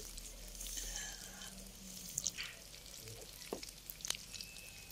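Corn and vegetable fritters (bakwan) fry in hot oil with a faint, steady sizzle and crackle, interrupted by a few brief clinks and scrapes of a utensil.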